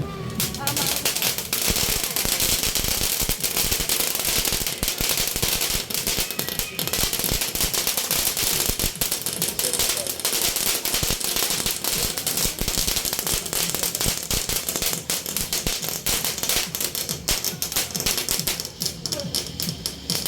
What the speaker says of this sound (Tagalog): Do you see it, guys? Fireworks.